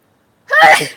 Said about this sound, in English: go ahead, sneeze.